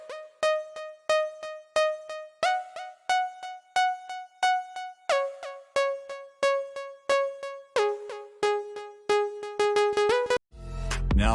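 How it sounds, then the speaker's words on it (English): A synth melody in FL Mobile, washed with reverb and delay, steps through rhythmic repeated plucked notes with lingering tails, ending in a brief burst of dense, noisy sound. "For this melody I added a simple reverb and delay."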